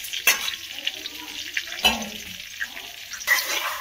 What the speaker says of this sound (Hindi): हम डाल देंगे इसमें बटर। ये लिए मैं खड़े मसाले,